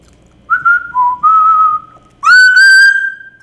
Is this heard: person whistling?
yes